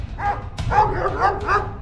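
Several dogs barking and yipping in a close, loud flurry, a few excited barks overlapping against a steady low background rumble.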